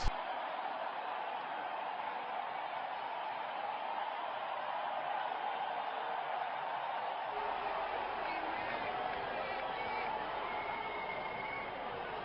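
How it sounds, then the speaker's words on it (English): Steady crowd cheering fills a cricket video game during a test match between Australia and England, a broad, even roar running under commentary. "Crowd going mad here."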